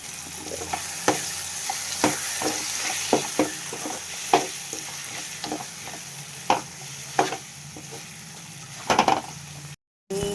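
Roasted brinjal is stirred into a tomato curry in a pan, a steady sizzle running underneath while a spoon scrapes and taps against the pan in irregular bursts, close and clear, with a brief dropout near the end.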